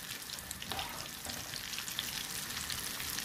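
Sukhiyan, a sweet Kerala snack, fry in hot sunflower oil with a steady close crackle and sizzle, plus a few faint stirring sounds, and no voices.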